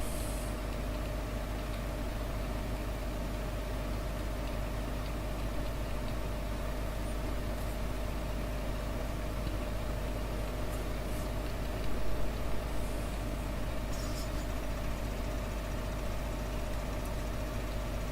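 Simulated tractor engine from Farming Simulator 15 labouring under a heavy grass mower, a steady loud drone holding throughout with no talk.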